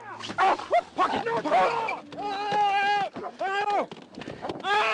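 Dogs bark and yelp in a fight while a person shouts loudly over them, with drawn-out whining cries mixed in.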